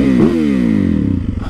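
A turbocharged motorcycle starts off and revs, its engine note rising sharply then settling into a loud steady drone close by, with a brief clatter at the start.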